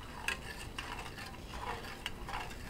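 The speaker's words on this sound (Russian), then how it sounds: "Помешиваем, размешиваем." A spoon stirring carrot marinade with salt and sugar in a pot, faint scraping and clinking against the pot's sides at a few irregular moments over a quiet background.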